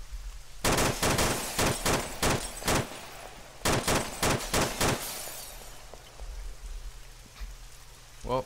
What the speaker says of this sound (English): Well, that was probably the worst shooting ever.